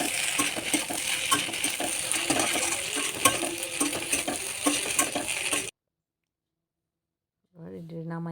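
Pasta in tomato sauce stirred in a pan, a steady scraping and clinking of utensil against metal with sizzling underneath, ending abruptly and followed by a short musical tone.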